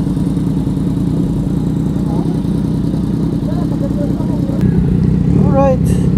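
A Yamaha Tracer big bike rumbles at idle close by with a steady low engine drone, while people chat over it outdoors at a meet-up.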